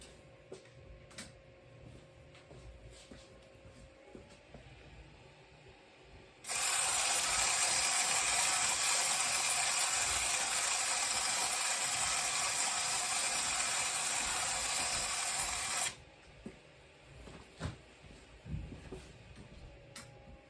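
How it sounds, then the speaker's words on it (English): The gear mechanism of a Popy High Voltage Beam toy accessory runs as a steady, bright ratcheting whir for about nine seconds, starting and stopping abruptly against a quiet room with faint clicks on either side. "the gear here drives the pulsing movement of the high voltage beam"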